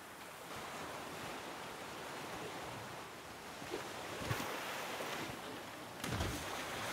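River water rushing steadily around a raft drifting downstream in The Flame in the Flood, a continuous wash of flowing water with a few soft splashes and no talk.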